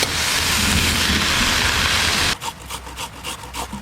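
Spinach with spices being stirred in a cooking pan, a loud dense sizzle and scraping for about two seconds, then quieter rhythmic stirring scrapes of the spatula against the pan.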